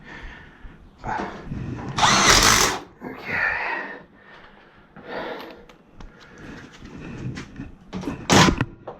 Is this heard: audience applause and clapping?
no